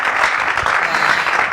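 A church congregation applauding to glorify God, a dense, loud and steady roar of many hands clapping throughout, close and uninterrupted with no talk.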